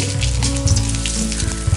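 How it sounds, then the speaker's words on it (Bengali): Bay leaves, cinnamon, dried red chillies, cardamom and whole cumin sizzle loudly in hot oil for tempering chana dal, a dense, steady crackle up close. "তেজপাতা, দারচিনি, শুকনো লঙ্কা, এলাচ আর গোটা জিরে দিয়ে ফোড়ন দিয়ে দেব।"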